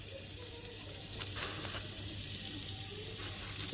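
Butter sizzling after being dropped into a hot pan for butter garlic mushrooms, a steady close frying hiss that slowly builds in loudness with no talk over it.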